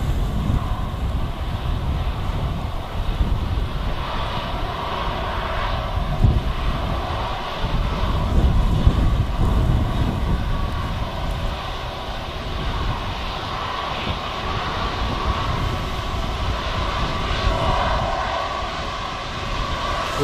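Airbus A320 jet engines at Wellington Airport give a steady, loud broadband roar with low rumble, holding for the full length without talk.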